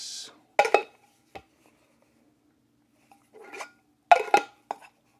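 A metal cup set into a Fire Maple stove pot gives several short, close metallic clinks and rattles in two separated clusters, with quiet gaps between them.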